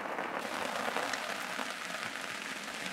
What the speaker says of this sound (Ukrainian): Спочатку звичайний дощ ставав все сильнішим і сильнішим, поки не перетворився на щільну водну стіну.